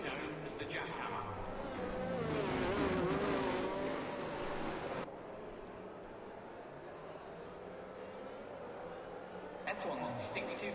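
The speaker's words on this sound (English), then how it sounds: "F1's distinctive sound throughout the decade is in part due to the high revving engines." Formula 1 V8-era race cars scream past at Mexico with high-revving engines, a thin buzzing whine that rises and falls, loud for a few seconds, then drops to a distant steady drone before swelling again.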